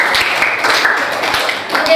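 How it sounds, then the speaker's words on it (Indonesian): Students clap together in a classroom, a dense, fairly steady patter of hands lasting a couple of seconds, with voices mixed in. "Oke, betul, tepuk tangan."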